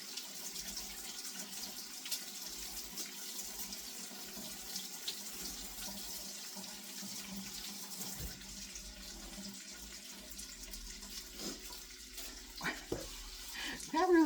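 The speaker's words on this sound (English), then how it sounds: "I'm going to give these celeries a good rinsing" A kitchen tap runs in a steady, soft stream while celery is rinsed under it, with faint clatters and some quiet talk.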